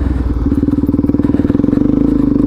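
A Suzuki DRZ400SM single-cylinder motorcycle lugging in first gear at low speed, with a loud, close, rapid thumping exhaust pulse that quickens slightly as it pulls.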